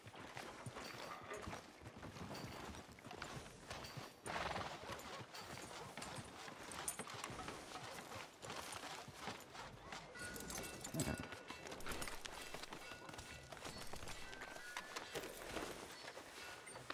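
Steady clip-clop of horse hooves in Red Dead Redemption 2 runs the full length with a continuous trotting rhythm, mixed with street and game ambience.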